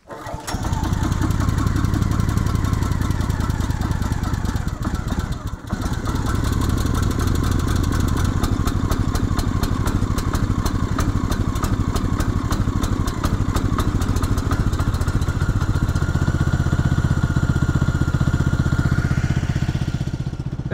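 Gas engine on a Norwood LM29 sawmill starts on a single choked pull with no priming and settles into a loud, steady, close idle with a rapid clattering beat that holds evenly to the end.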